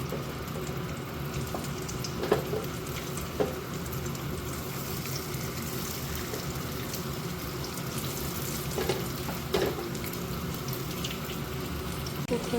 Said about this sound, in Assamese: চিকেন কেইপিচ এতিয়া ল' ফ্লেমত ফ্ৰাই কৰি ল'ম।